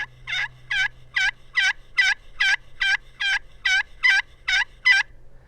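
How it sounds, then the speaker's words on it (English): A series of about a dozen evenly spaced, high-pitched yelping calls from a turkey pot call, each a short raspy two-note burst, close and clear. "So that's a common yelp."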